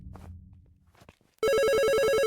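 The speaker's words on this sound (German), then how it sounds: "Was macht denn hier immer dieses Telefongeräusch?" A telephone bell rings loudly in the horror video game Fear the Spotlight, a sudden burst of rapid repeated trilling that cuts in after a stretch of quiet low rumbles and faint noises.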